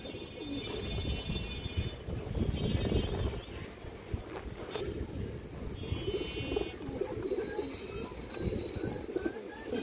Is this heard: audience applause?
no